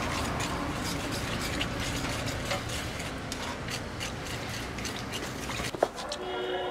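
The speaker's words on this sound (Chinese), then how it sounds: "再来一点的盐，来一点的辣椒油，这是自己做的啊，辣椒油，还来，然后给它搅拌" Chicken legs being stirred and mixed with salt and homemade chili oil give a soft, steady wet rubbing and scraping. A voice talks over it, and a brief clatter comes near the end.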